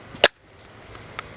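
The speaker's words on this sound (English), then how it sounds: "So we're gonna put the battery on." A battery snaps onto a Harbor Freight Bauer power tool with one sharp, close click, followed by a fainter small click a moment later.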